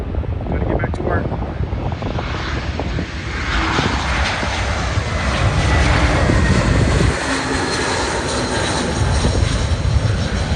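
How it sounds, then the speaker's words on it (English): A fixed-wing airliner comes in to land at LAX, its engine roar loud and close, building as it passes and holding a broad steady rumble; voices are heard faintly under the noise. "we got one more airplane coming in"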